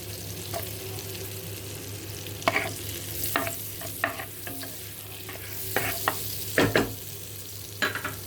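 Green chillies frying in a pan for shahi paneer, a constant sizzle broken by repeated scraping stirs of a spoon against the pan, close and clear, with no talk.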